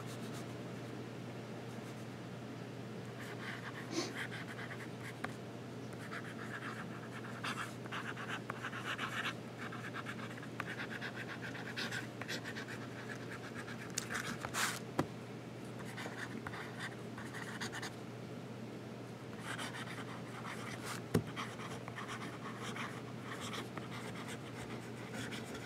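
Fountain pen nib scratching across paper while held upside down, faint soft strokes in short bursts over a quiet room hiss, with no talk.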